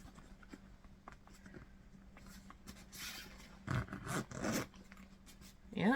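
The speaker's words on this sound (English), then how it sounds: "Let's see if it'll still zip." Zipper being pulled closed on a Vera Bradley Featherweight crossbody bag stuffed with a cup, mints and a coin purse, a few short scratchy runs that grow louder and rougher toward the end, heard close up.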